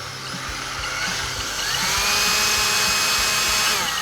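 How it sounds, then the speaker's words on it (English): A power drill bores a hole through a Harley-Davidson V-Rod with a 5/16 bit, a loud, steady high-pitched whine that holds for the whole stretch and swells slightly midway, with no talking. "Alright, now we're going to drill a hole for the wires to go back and forth between the air box."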